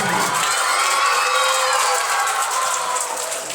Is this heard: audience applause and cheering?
yes